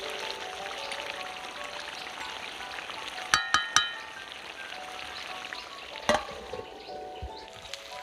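Chicken curry cooked without oil sizzling steadily in a pan, with a few sharp metallic clinks of a spoon against the pan as it is stirred, the loudest near the middle.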